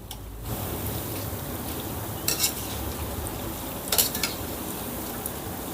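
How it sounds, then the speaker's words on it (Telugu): Cauliflower pieces for gobi 65 deep-frying in oil, giving a dense, steady close sizzle with a couple of short metallic scrapes as the pieces are stirred. "ఇప్పుడు ఒకసారి ఇలా కలిపేసుకుందాం"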